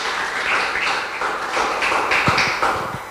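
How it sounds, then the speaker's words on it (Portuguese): A church congregation claps in a brief burst of applause during a worship service, with a few sharper individual claps standing out toward the end. "Dê uma linda salva de palmas."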